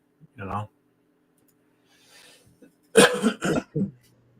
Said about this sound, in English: we both sound good with the coughing